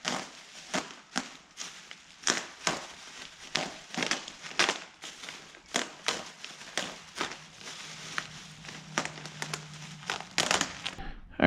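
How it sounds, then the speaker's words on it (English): Packing material being cut and pulled away from a GM square body dash pad box, producing a long run of sharp crinkles, snaps and rustles at close range, with short pauses between them. "We're going to cut some of this packing out of the way."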